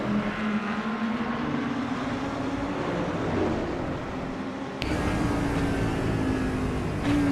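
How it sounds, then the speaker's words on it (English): GT3 race cars in an IMSA racing video game at Road America drone on the straight, engine notes easing off as drivers lift, a dense continuous roar with a sharp shift near the end. "you can hear the cars just lifting on the straight"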